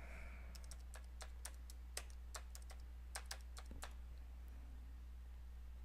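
Keys tapped on a computer keyboard while an email address is entered, a quick uneven run of soft clicks with short pauses, close and fairly quiet over a steady low hum.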